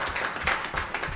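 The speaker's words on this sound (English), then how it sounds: "that is a round of applause for you all" Brief applause at a city council meeting in Lockport, Illinois, a short burst of scattered, close clapping with no talking.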